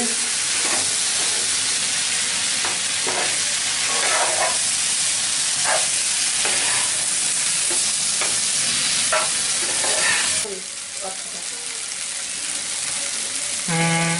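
Oil-free beef curry with chopped ginger and whole garlic cloves being stirred in a pot, rhythmic spoon scrapes and knocks over a steady sizzling hiss, the stirring pausing near the end as the sizzle softens.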